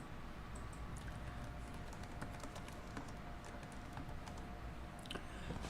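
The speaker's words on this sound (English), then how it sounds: "I got to type this in" Rapid, irregular keyboard typing runs through the whole stretch, a steady patter of light clicks over a dull background hum.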